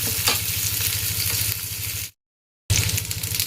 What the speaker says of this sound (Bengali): ওটাকে সাথে ভেজে নেবে একটুখানি নরম হয়ে গেলে